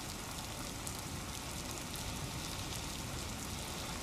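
Heavy rain pours steadily on a street in Jaipur's walled city, a dense, unbroken hiss of falling water with no gaps, fairly quiet and even throughout with no voices.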